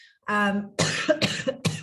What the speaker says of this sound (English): I tend to start coughing when I'm talking